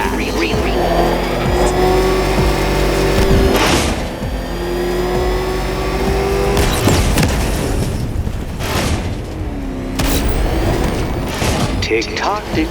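The Batmobile in Batman Arkham Knight revs loudly and roars through rising and falling engine pitches, with booms and tire squeal mixed in, while a voice talks over it.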